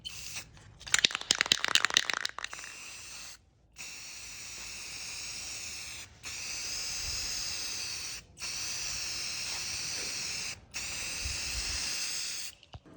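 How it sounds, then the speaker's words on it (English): Bursts of spray hiss steadily as lacquer is applied to stained wooden threshold pieces, several long sustained passes separated by short pauses, after a brief rattling shake of the can at the start. "And now I'm just gonna spray on some lacquer."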